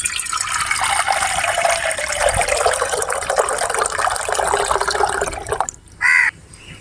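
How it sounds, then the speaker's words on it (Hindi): Four cups of water pour into a pot for suji halwa, a loud, steady splashing stream whose tone rises as the pot fills, then stops abruptly, followed by a brief caw from a crow. "सबसे पहले 4 कप पानी का डालेंगे"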